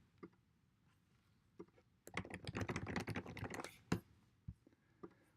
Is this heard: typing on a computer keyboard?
yes